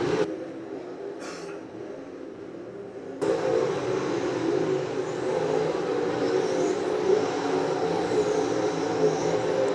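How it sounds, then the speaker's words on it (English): Modified race cars run a practice session at Mississippi Thunder Speedway, a dirt track, their engines a distant, blended roar that jumps louder partway through and then holds steady. "Those are your modifieds out on the track right now in this practice session."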